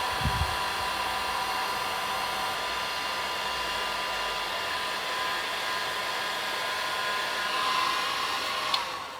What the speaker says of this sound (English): Then slip over the heat shrink, heat gun. I'll just shrink that down.